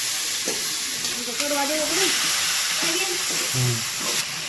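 Tomatoes and asafoetida sizzle in a hot pan as they are stirred, giving a steady frying hiss while someone talks over it.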